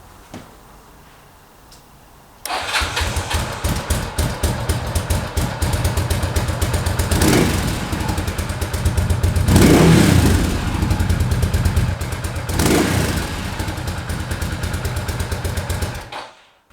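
A Cagiva Elefant motorcycle with a Ducati engine starts after a quiet moment, then runs steadily at close range with a throbbing, lumpy idle and a few swells in revs.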